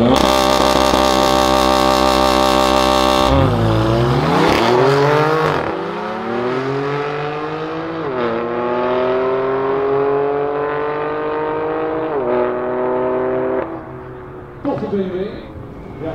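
BMW M3 F80 fitted with an iPE exhaust system blipping hard, then settling into a deep, rumbling idle with repeated short revs, loud and close, with a voice talking over it.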